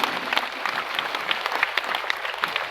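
Crowd applause at a large outdoor Islamic tabligh akbar gathering in Palaran, steady dense clapping with scattered sharper claps across the whole stretch, fairly loud and continuous.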